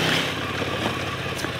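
A motorcycle engine runs steadily on a rough mountain track near the Parpaillon tunnel in the southern Alps, a loud, close drone with clattering and no talk.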